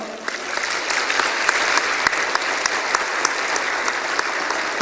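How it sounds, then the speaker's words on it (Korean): A church congregation at a Sunday service applauds to welcome an evangelist forward, a sustained, even roar of clapping with a few sharper individual claps standing out, and hardly any voices. "우리 병만 전삼 나올 때 힘차게 격려의 박수로 맞이하겠습니다"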